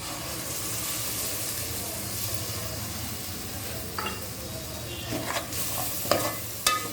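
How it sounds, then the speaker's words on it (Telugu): Pureed medium-sized tomatoes sizzle and fry steadily in a hot pan for jackfruit biryani, a continuous hiss broken by a few sharp spatula stirs and clinks toward the end. "రెండు మీడియం సైజ్ టమాటాలు మిక్సీ చేసి పెట్టుకున్నాను అవి వేసేసుకుంటున్నాను"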